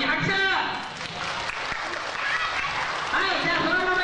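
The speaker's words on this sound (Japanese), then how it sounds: "優勝した6人に拍手。" Applause for six winners at a children's sports club event, a steady patter of clapping from a group with voices talking over it.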